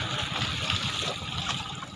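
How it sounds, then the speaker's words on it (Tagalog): Choppy sea water rushing and splashing against a small boat driven by a strong northeast monsoon wind, a steady, close, continuous wash with no voices. "Medyo malakas yung alon mga idol."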